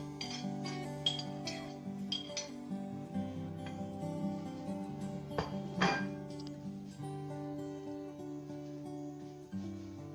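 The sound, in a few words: stirring dhokla batter in a bowl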